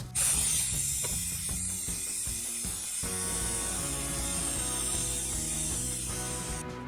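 A hand-pumped vacuum brake bleeder pulls suction on a motorcycle brake caliper, producing a continuous close ratcheting, mechanical churn with a steady low hum underneath.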